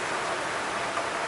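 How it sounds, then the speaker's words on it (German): Steady rain falls in Cologne during summer, a dense even hiss with no variation, fairly loud and close throughout the short stretch, with no other sounds. "Regen, Regen, Regen."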